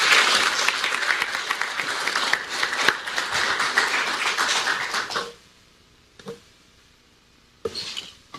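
Loud, dense applause from a crowd at a presidential candidate's press conference, sustained for about five seconds and then stopping abruptly, followed by near silence with a few faint taps and rustles.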